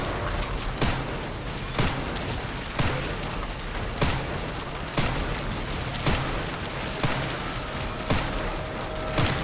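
Sustained gunfire from a magazine in Resident Evil Requiem on Insanity mode: a steady run of loud, evenly spaced shots, roughly one per second, over a dense continuous game soundscape with no talk.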